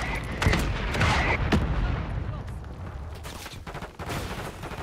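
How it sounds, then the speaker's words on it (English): Video game gunfire, rapid overlapping shots and bursts cracking close and loud from several directions, a dense sustained firefight with occasional heavier booms. "We're getting shot from everywhere."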